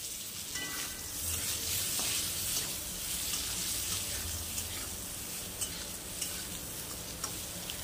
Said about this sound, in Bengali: আলুগুলো একটু ভাজা ভাজা হয়ে আসলে এইবার আমি দিয়ে দেবো যে কাটা বেগুনগুলো ছিল